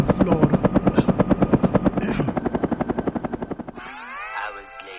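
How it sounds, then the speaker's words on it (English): Helicopter flying close and loud, its rotor chopping in a steady rapid rhythm for most of the stretch before fading as other noise takes over near the end. "let me get in the helicopter."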